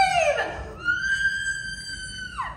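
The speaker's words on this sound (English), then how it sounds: "Let's all hear how you would scream!" A woman screaming at a Universal Studios Hollywood special effects show, one long, high, piercing scream lasting a couple of seconds over crowd ambience.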